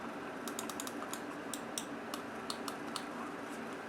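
Keys on a computer keyboard are pressed in quick irregular clusters, crisp clicky taps close to the listener over a low steady hum, with no talking.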